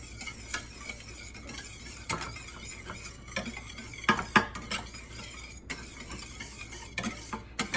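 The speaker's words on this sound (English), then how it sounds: "And then I'm going to whisk that in." Béchamel sauce being whisked in a pan, repeated metallic whisk scrapes and clinks against the pan in an irregular rhythm over a faint sizzle, close up with no talking.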